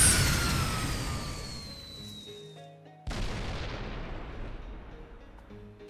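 Two firework explosions in the video game The Unfinished Swan, each a sharp booming burst with a long fading rumble, the second striking about three seconds after the first with faint tones between.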